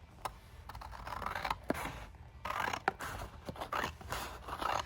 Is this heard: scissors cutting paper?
yes